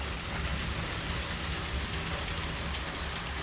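Heavy rain pours down steadily over a village in Nadrybie, Poland, a dense continuous hiss of drops at moderate distance.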